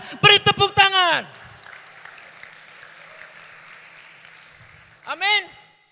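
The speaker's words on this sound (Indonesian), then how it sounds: "beri tepuk tangan" A voice speaks briefly at a church conference, then an audience applauds steadily for several seconds before the voice returns.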